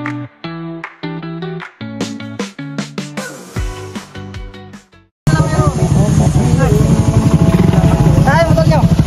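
A motorcycle engine runs steadily and loud in the second half, close by, with voices talking over it.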